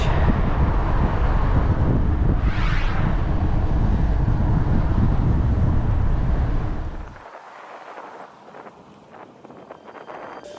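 Strong, steady wind roars and buffets the microphone on Satellite Beach, Florida, for several seconds, then drops abruptly to a quieter breezy hiss with faint crackling.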